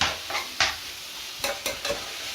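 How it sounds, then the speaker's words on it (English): Lean beef mince browning in a pan, stirred with several short scraping strokes over a steady low sizzle, close and fairly quiet. "Let's give this a stir. You've got your fresh tomatoes, your carrots, your garlic, your salt, your pepper, the lovely lean beef mince that's browning lovely now."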